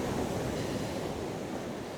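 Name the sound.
sea waves of the incoming tide on a beach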